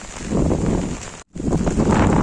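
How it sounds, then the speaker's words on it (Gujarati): Strong wind roars and buffets loudly and close, with heavy rain mixed into the rush, broken once by a brief moment of silence. "ધોધમાર વરસાદ પડી રહ્યો છે અને તેની સાથે વાયરો પણ બહુ બહુ જ છે"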